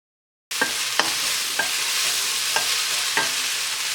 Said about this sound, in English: Now we're going to add the carrot, courgette, ginger, and garlic, and then continue stirring for another 2 minutes.